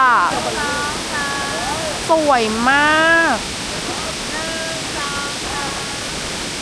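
Steady rushing of a multi-tiered waterfall at Krok I Dok, Thailand, fills the background, with people talking over it in the foreground.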